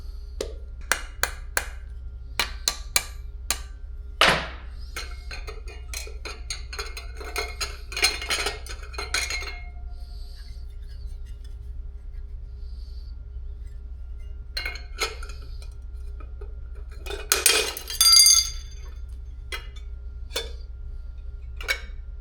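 Glass parts of a handmade flower wedding gift are handled on a hard surface, producing scattered close clinks and taps in irregular clusters, with a louder burst of rattling near the end over a low steady hum.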